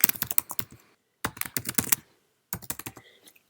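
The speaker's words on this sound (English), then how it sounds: "Now let's go into the email and type Dear CSV." Fingers tap out quick bursts of keystrokes on a Mac keyboard, three short clusters separated by pauses, close and fairly quiet with no talking.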